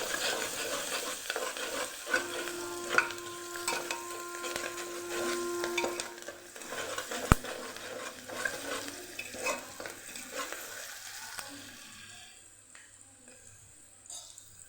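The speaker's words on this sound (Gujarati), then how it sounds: "ડુંગળીને સરસ આપણે સાતડી લેવાની" Long-sliced onions sauté in a pan for a masala khichdi, a soft sizzle under repeated stirring scrapes and light utensil clinks that gradually thins and quietens toward the end.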